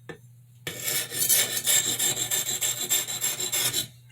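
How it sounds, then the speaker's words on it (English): An 8-inch chef's knife drawn across a medium grit India sharpening stone, giving a loud, steady run of rasping strokes in quick rhythm, close up with no voices. "So I'm going to take this medium grit India stone"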